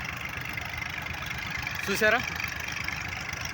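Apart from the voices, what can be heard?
double engine pump dewatering construction site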